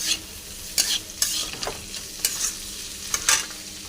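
Cashews being stirred as they fry lightly in a pan of vegetables for cauliflower fried rice, a steady soft sizzle broken by several sharp scraping stirs, close by with no talk.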